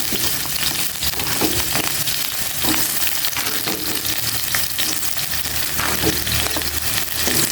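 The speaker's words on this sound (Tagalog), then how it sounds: "Iprito ko muna itong potato carrots." Potatoes and carrots fry in hot oil in a pan, a steady dense sizzle with occasional stirring scrapes, loud and close throughout.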